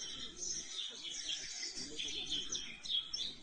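Birds singing outdoors in a steady, busy chorus of high chirps and tweets that overlap continuously at moderate loudness, with no speech.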